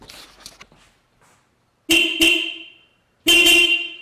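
A rusty old car horn on a Honda Del Sol gives two quick honks, then a longer blast after a pause, loud and close, with faint rustling beforehand.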